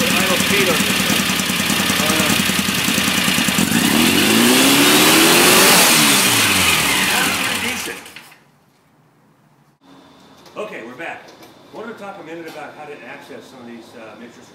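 Car engine fitted with Kadron Solex H40/44EIS carburetors and a slightly lumpy cam revs loudly, then drops away; afterward it idles faintly beneath someone talking close by.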